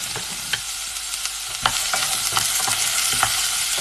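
Onions frying in a pan, a dense steady sizzle close by punctuated by light taps and scrapes of stirring, with no voices.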